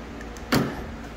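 A 1983 Chevy wiper motor with a park position problem gives one short mechanical whir and clunk as it runs to park, loud and close, with a faint steady hum before and after.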